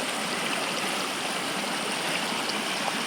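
Water from Khardu Khola stream rushes steadily and loudly into a dam intake, a constant broadband flow with no pauses or voices.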